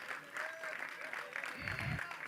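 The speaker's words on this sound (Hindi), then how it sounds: "एक बार जोरदार तालियां" Sustained applause from a crowd at a Bharat Bhhagya Viddhaata media event, a steady wash of clapping heard faintly, with a voice speaking over it partway through.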